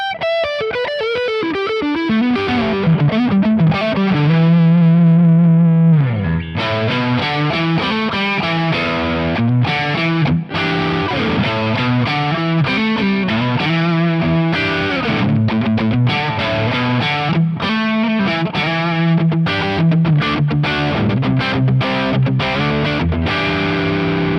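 Heavily distorted Saito S-622TLC HH electric guitar, a modern Telecaster-style model with two humbuckers, playing chords and riffs, loud and continuous with a thick, saturated tone and no voices.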